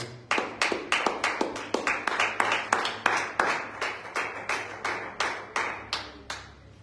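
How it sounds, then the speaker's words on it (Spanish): Rhythmic unison clapping from a church congregation at a Sunday evening service, about twenty evenly spaced sharp claps at a steady beat, moderately loud and close, with no talk over it. "Dale un fuerte aplauso a Cristo"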